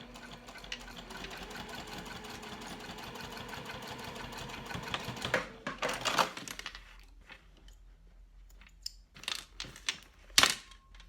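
A sewing machine stitches a crossbody bag closed with a narrow seam, a rapid steady mechanical whir lasting several seconds, then stopping, followed by scattered clicks and handling knocks.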